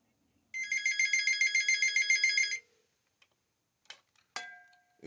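A VTech cordless phone rings with a warbling electronic trill in one continuous burst of about two seconds, followed by a few faint clicks and a short beep, with no one speaking.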